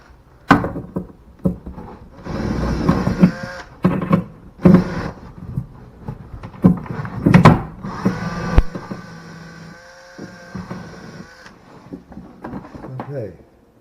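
A power drill whirs in several bursts, drilling holes in a slingshot catchbox, starting and stopping close by, with clattering handling sounds and occasional talk between runs.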